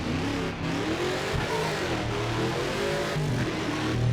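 A race car in a video game revs at full throttle, a loud close engine note climbing and dipping in uneven surges over four seconds, with no voices.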